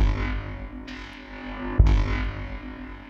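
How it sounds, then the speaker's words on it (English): A drum sample processed with reverb on an Ensoniq ASR-X rings out with a long, washing reverb tail; a second heavy hit lands midway and decays into the same echoing wash. "Well, now we got reverb."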